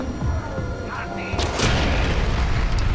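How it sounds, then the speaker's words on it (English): A heavy explosion in the video game Far Cry 4, a loud booming blast that erupts and rolls on amid ongoing game noise, with a voice talking over it. "okay, that explosion didn't kill him."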